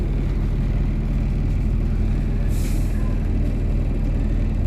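An Optare Solo bus, Cummins or Mercedes engined, rumbles steadily from on board, its diesel droning loudly throughout, with a brief hiss of air brake release midway.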